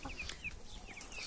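A large rooster and hens in a backyard flock give soft clucks and calls, fairly faint and scattered against quiet outdoor background.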